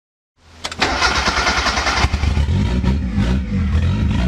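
A turbocharged Mazda Miata cranks and fires up, then settles into a rough, rich-running idle with a loud, close, uneven rumble and no talking.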